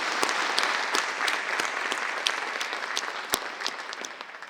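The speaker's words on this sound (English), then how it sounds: "So join me in giving a quick round of applause to the families of our awardees." An awards ceremony audience at a public safety event gives a modest round of applause, with scattered individual claps standing out over a softer wash of clapping that slowly fades.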